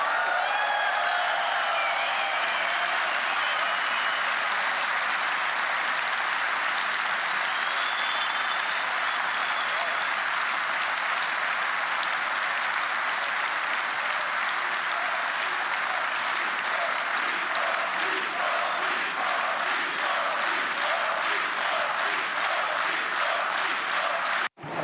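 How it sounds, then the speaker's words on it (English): A large crowd at a political rally in Budapest, Hungary applauds loudly and without a break, and the clapping turns into a rhythmic chanted beat toward the end. "And the crowd is chanting encore"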